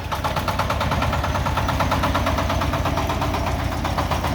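A Shifeng 244 tractor's 24-horsepower engine idles steadily up close, a continuous low throbbing chug with an even rhythm and no pauses.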